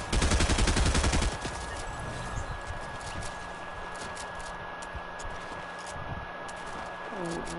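AK rifle gunfire in the Fortnite video game: a loud rapid burst at the start, then fainter scattered distant shots under a steady background hiss.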